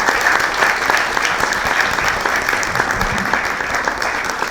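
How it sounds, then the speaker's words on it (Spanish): A congregation at the closing of a spiritual exercises symposium applauds steadily for Darío, a dense, even wash of clapping that holds at full strength throughout with no voices. "De nuevo un aplauso para Darío."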